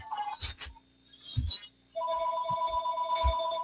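A telephone ringing with a steady electronic tone that starts partway through and continues, heard indoors alongside thumps and background noise from a video game session.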